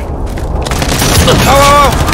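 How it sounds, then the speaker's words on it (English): Video game explosion effects in Call of Duty Modern Warfare: a sustained, loud, rumbling blast wash from a precision airstrike with a rising whistle-like tone late on, all close and dense. "Enemy precision airstrike, take cover!"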